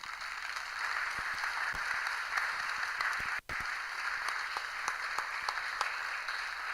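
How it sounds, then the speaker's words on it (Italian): An audience applauds at the opening of a contemporary art exhibition at Villa Pisani. The clapping is steady and fairly soft, with one brief dropout in the middle. "vi chiedo un applauso per i padroni di casa"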